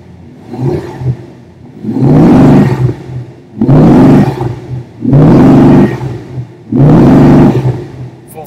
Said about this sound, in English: Partial throttle, 1800 RPM, doesn't look so bad.